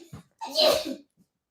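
A single close, loud sneeze bursts out after a short intake of breath, followed by quiet.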